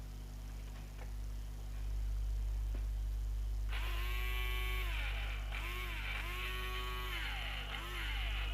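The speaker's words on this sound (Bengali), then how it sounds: "দেখুন বন্ধুরা, ভালো করে দেখুন, মোটরটা ভালো ঘুরছে।" A small electric motor powered through a UPS transformer charger starts up and runs, giving a steady whine with rising and falling tonal sweeps over a constant mains hum, with no one talking.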